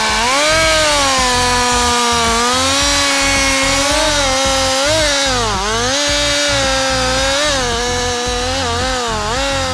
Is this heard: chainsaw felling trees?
yes